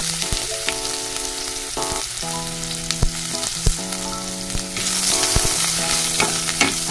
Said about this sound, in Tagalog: At i-brown muna natin itong luya natin para mabango.